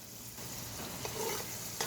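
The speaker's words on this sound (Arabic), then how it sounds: "وأبدأ أصب الزيت. وهذا عندي بصلة مقطعة وثوم أضيفهم،" Chopped onion and garlic hit hot oil for a Saudi-Yemeni kabsa, setting off a soft steady sizzle with a couple of quick stirring scrapes and a small clack at the end, close but quiet.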